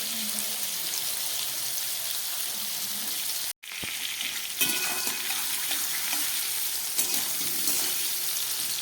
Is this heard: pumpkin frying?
yes